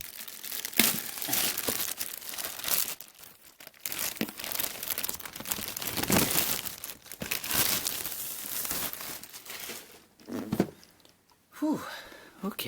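A plastic bag crinkles and rustles in bursts while an action figure is unboxed, the bag being the wrapping around a Super7 Ultimates Mumm-Ra figure. The sounds come close and irregular, with a person talking in between.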